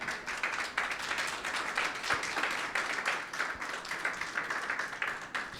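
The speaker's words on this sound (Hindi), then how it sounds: "यीशु के लिए तालियां बजाएं।" A church congregation at a Sunday meeting claps for Jesus, a dense, steady wash of applause lasting throughout, loud and close with no break in the clapping.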